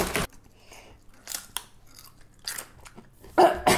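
Someone bites and crunches Doritos tortilla chips close up, a few sharp crisp crunches spaced apart with quieter chewing between, no speech.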